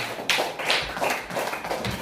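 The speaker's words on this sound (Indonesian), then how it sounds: "Kita tepuk tangan untuk kita semua." A classroom group claps together, a brief patter of many hands with uneven, overlapping slaps lasting about two seconds.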